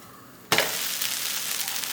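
Oil spread over a wheat dosa on a hot pan bursts into a sudden loud sizzle, then holds a steady crackling fry close by.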